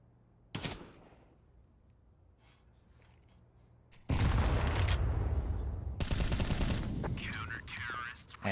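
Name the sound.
gunfire in an esports shooter video game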